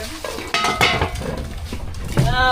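Metal cooking pots clank and scrape as they are moved about on a boat, with a few sharp clinks and a ringing knock near the end.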